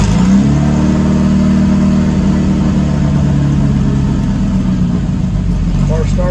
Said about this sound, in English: Car starts right up, comes off the cold start, idle falls back down.